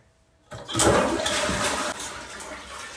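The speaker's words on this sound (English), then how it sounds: "flush the toilet, then turn off the water" A household toilet flushes nearby with a loud whoosh of rushing water that starts abruptly, then settles into a steady refill hiss, in a bathroom where an Omigo Element bidet seat is being installed.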